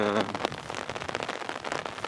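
Heavy rain pouring down outside on a stormy day, a dense continuous patter of drops hitting surfaces, close and steady throughout.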